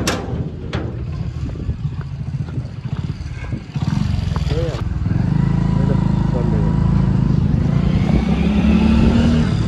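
A new motorcycle rides along with a steady, loud engine drone that grows fuller partway through, close by, while a person talks over it.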